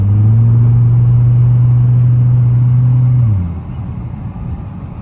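A loud, close Volvo S40 T5 engine accelerating hard holds a high, strained drone for about three seconds, then drops abruptly to a lower, rougher rumble.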